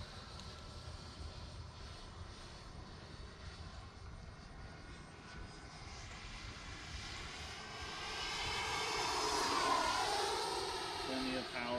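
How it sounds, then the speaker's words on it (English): A Freewing Avanti S 80mm 12-blade electric ducted fan RC jet flies at just under half throttle on an evening flight, its steady whine swelling louder as it passes close, with people talking over it. "Half throttle, a little bit less than half throttle."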